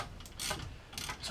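A 1/2 inch ratchet tightens a brake caliper bolt on a 1991 Toyota Celica GT, giving a few faint, quick clicking bursts close by with quiet pauses between them.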